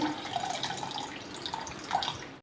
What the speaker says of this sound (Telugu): ఇప్పుడు ఈ చింతపండు గుజ్జు మొత్తం దీంట్లో వేస్తున్నానండి